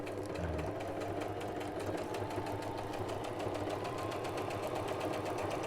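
Sewing machine racing at speed while stitching a notebook, a steady fast needle rattle with motor hum, close and continuous throughout, no voices.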